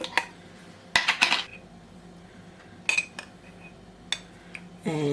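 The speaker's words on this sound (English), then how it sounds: "we're just going to whisk this together" Metal clinks and scrapes from a whisk striking a pot of chicken gravy mix and cold water, a few sharp irregular knocks spread across several seconds, close and fairly loud.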